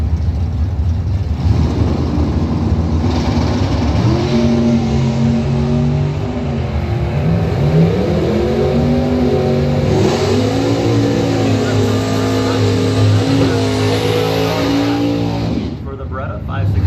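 A 1970 Chevrolet Nova drag race car revs hard at a drag strip, loud close engine with rising and falling pitch through repeated throttle blips, alongside other race engines idling.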